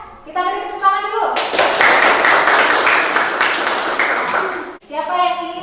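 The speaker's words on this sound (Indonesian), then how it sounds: "Kita beri tepuk tangan dulu." Classroom applause for a group presentation, a burst of students clapping loudly for about three seconds, with a teacher talking just before and after.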